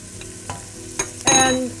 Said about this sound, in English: we're going to let this saute for about 5 minutes while the onion gets nice and soft